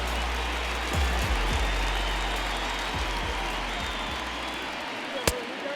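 A baseball stadium crowd in MLB The Show 20 applauds and murmurs in a broad steady wash, with a few dull thumps early and a sharp knock near the end.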